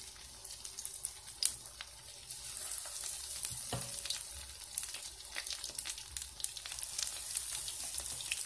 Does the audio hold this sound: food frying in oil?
yes